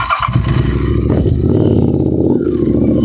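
A modified Royal Enfield Interceptor 650 fitted with fat tyres runs close up, its parallel-twin engine giving a loud, steady throbbing drone with a brief throttle dip and recovery, no talking over it.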